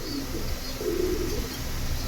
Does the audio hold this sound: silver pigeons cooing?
yes